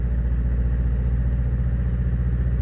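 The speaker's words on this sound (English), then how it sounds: "I'm revving the car up again. I'm at 2000." A Mazda engine is revved and held at about 2000 rpm, a steady, even low hum that stays constant and fairly quiet throughout, with no talking.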